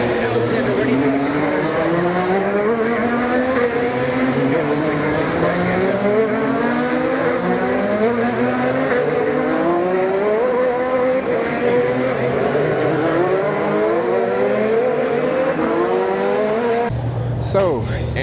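IndyCar race cars scream past during qualifying at the Detroit Grand Prix, with one high-pitched engine whine after another rising and falling in continuous loud waves.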